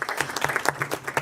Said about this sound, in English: They deserve a sound of applause.